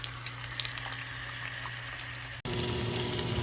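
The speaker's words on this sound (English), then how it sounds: "So we put the salmon face down first. We're gonna cook it in the pan, that pan." Salmon sizzles face down in a pan, a steady close frying hiss with small pops that jumps louder after a brief cut, no voices.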